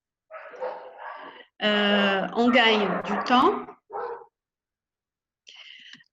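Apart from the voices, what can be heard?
dogs barking nearby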